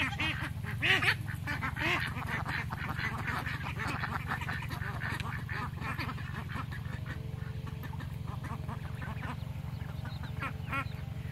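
Homestead ducks quack repeatedly in a lively barnyard, with a steady low hum beneath and occasional faint voices in the background.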